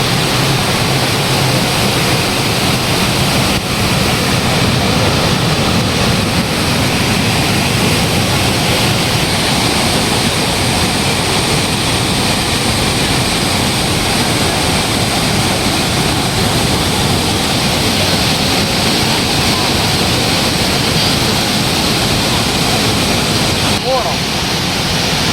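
Areekkal waterfall near Piravom in Ernakulam district pours with a steady, dense roar of rushing water that holds unbroken and loud throughout, with no break in the torrent.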